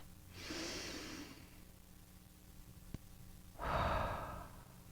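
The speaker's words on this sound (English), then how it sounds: "you're welcome to join me in a breath" A slow, deep breath taken during a guided meditation for Ukraine: a soft, airy inhale, a pause, then a longer, fuller exhale, close to the microphone with no talking.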